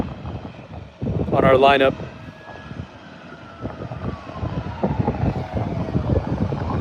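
An airliner at San Diego Airport drones with a steady, fairly distant engine roar and a slowly shifting whine, while someone talks briefly near the start.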